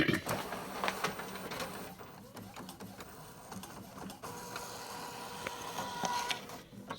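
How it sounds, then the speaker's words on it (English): An Epson WF-7610 inkjet printer runs a print head nozzle check, with steady mechanical whirring, rattling and clicks of the moving head and paper feed, close and continuous throughout. "Just printer head nozzle check."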